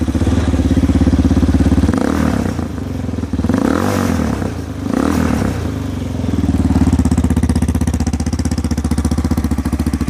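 A 2013 Chinese 250cc motorcycle engine idles loudly up close with a rapid, steady thumping putter, a few brief throttle blips dipping and rising in the first half, then settling into an even idle.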